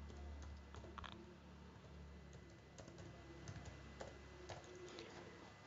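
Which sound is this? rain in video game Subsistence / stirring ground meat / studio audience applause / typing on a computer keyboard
typing on a computer keyboard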